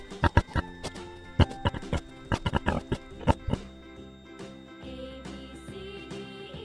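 A series of short, sharp pig oinks and grunts in quick irregular bursts, followed by a soft jingling musical tail.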